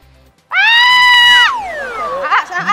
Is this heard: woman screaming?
yes